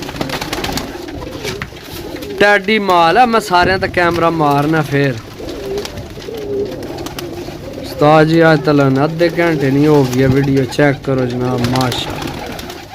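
Pigeons cooing at a pigeon keeper's loft in Gujrat, Pakistan, close repeated throaty coos in two bursts while someone talks over them.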